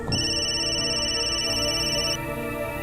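A telephone rings with a sustained electronic tone, close and clear, stopping after about two seconds.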